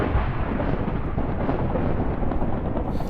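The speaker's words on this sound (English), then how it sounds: "oh god, thunderstorm going on." Continuous low rumbling roar of thunder during a thunderstorm in the Minecraft video game, steady and loud throughout, broad and dense with no distinct breaks.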